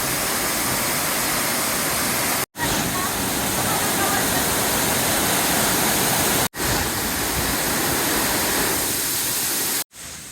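A waterfall in Siquijor, Philippines roars as a loud, steady broadband rush of falling water, close and continuous, cut briefly by two short gaps.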